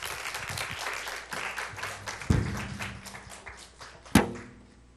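An audience claps after a church lecture, steady scattered applause at moderate volume, broken by a couple of sharp thuds.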